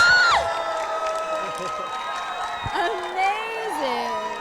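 A large crowd at a Berlin movie premiere night for Dracula Untold screams and cheers loudly and steadily, with overlapping shouts and whoops rising and falling throughout.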